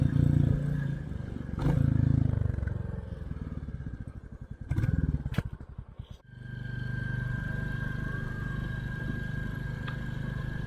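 A Royal Enfield Classic 350 single-cylinder motorcycle being ridden: a steady thumping engine note with some clatter and rattles partway through, a brief dip, then a smooth continuous run at close range.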